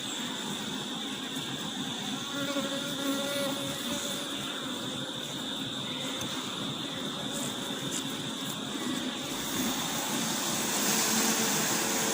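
Honey bees swarm around an open brood frame at an outdoor hive in Jamaica, a dense, continuous buzzing hum filling the air at moderate volume throughout.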